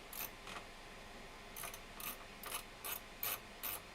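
Ratchet socket driver spun by hand, quick bursts of sharp clicking pawl ticks repeating about every half second, close and quiet.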